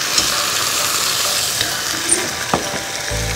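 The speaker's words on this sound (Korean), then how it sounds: "이때 굉장히 기름이 튀죠?" Ground meat frying with seasoning sauce for Korean-style mapo tofu, oil spattering in a loud, steady sizzle with a few sharp pops and crackles, ending in a low hum, no voices.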